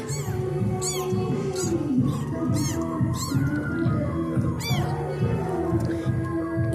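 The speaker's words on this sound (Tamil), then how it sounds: "ஆய் பெட்டு மியாவ சொல்லு" Pet cat meowing repeatedly in a rapid series of short, insistent calls, close and loud, over a constant background hum.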